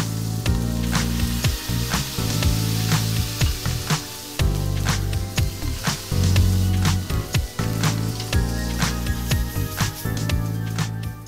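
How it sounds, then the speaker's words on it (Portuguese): Butter sizzles loudly in a very hot pan while a Brazilian stroganoff is cooked, a steady crackling hiss with bursts and spatters and a brief pause partway through. "eu tenho apenas a manteiga no fundo da panela e um calor bem potente"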